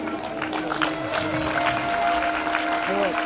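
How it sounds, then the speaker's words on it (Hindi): An audience at a Shrimad Bhagwat Katha religious gathering claps to welcome a guest, a moderate, fairly steady patter heard under a voice speaking over a microphone. "तालियों के साथ स्वागत करेंगे।"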